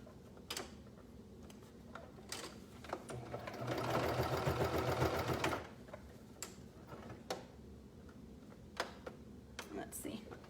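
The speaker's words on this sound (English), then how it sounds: "The great thing about a cover stitch machine is when you're sewing with knit fabrics, like I am right now," A cover stitch sewing machine stitches knit fabric in one fast, loud rattling run of about two seconds mid-clip, surrounded by quieter clicks and handling taps.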